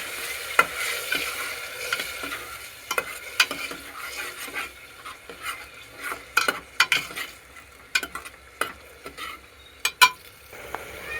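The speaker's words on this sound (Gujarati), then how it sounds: "આ રીતના મિક્સ કરી લેવાના હલાવી।" A spoon stirs corn curry gravy in a pan, making repeated close scrapes and clinks over a moist sizzle in an irregular rhythm, with no talking.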